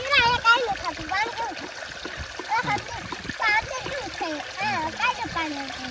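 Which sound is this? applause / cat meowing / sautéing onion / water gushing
water gushing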